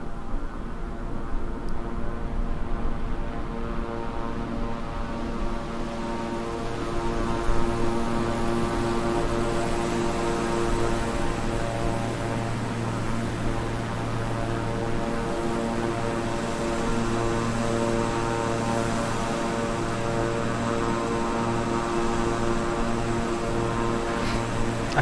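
Twin turboprop engines of a Beechcraft 350i King Air drone steadily in flight in Microsoft Flight Simulator, a loud continuous cabin hum with stable tonal whine and no talk.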